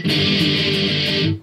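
Distorted electric guitar plays an intro, index finger barring three strings, as one loud, dense, sustained chord-driven passage with steady strummed pulses, ending abruptly.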